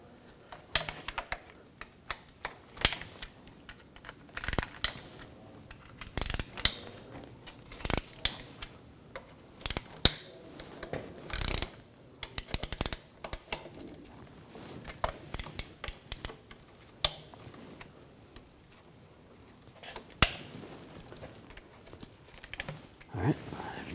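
Transmission pan screws being loosened one after another under a 2007-2013 BMW X5, scattered sharp metallic ticks and clicks from the tool, close but quiet, with stretches of near silence between them.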